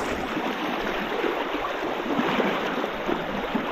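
A strong river current flows in a dense, continuous rush of water, loud and close throughout with no voices.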